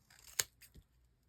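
Craft scissors give a single quick snip while trimming the edges of thick paper scraps for a handmade mini junk journal, close and fairly quiet, followed by a fainter second snip.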